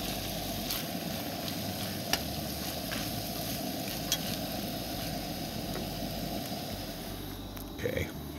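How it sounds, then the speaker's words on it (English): Black beans and meat stirred in a hot pot, giving a continuous loud sizzle with scraping stirring strokes and a few brief clicks, and no clear talk over it. "Good old-fashioned black beans. Alright, let's get that stirred up."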